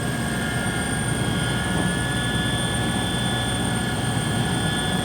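Helicopter in flight over Planica, with a loud, steady rotor and engine drone that stays constant throughout, close and uninterrupted.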